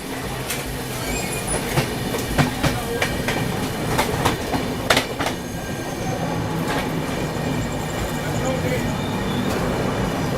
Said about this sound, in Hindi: ये है लखनऊ मेल, पैरेलल चल रहा है इसके साथ।